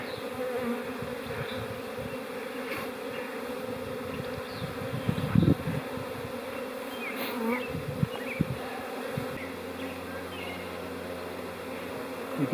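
A swarm of honey bees buzzes and fans around a tree, making a dense, continuous droning hum with a few louder individual bees passing close by.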